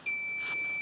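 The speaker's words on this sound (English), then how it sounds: "One of my 8TB Seagate drives has failed. And that's why it's beeping." An LSI RAID array alarm set off by a failed Seagate 8TB drive, giving a loud, steady, high-pitched electronic beep that holds continuously for the whole moment.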